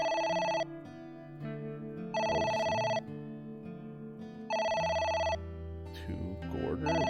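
Telephone ringing in the video game AI: The Somnium Files: three loud, steady electronic ring bursts, each under a second long, separated by pauses over background game music, with a brief voice near the end.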